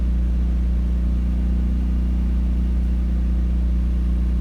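A portable generator runs on a semi-truck at a truck stop, giving a steady, loud, continuous engine drone with a low hum and no change in pitch throughout.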